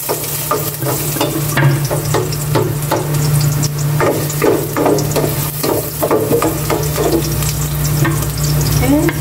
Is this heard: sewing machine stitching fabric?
no